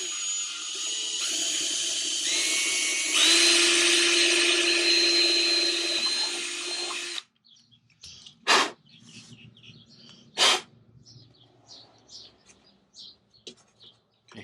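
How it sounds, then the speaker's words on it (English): A power drill bores holes through a plastic lid to mount a rack. It whines loudly and steadily for about seven seconds, its pitch stepping up as it cuts, then stops, leaving quiet scattered clicks. "we've actually got to drill the 4 holes for the rack to be mounted on top of the lid"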